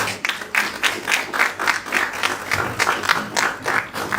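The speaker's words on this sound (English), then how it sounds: "I think Prof deserves another round of applause" A crowd at a civic hub gathering applauds steadily, dense clapping that is loud and close and holds an even level throughout without pause.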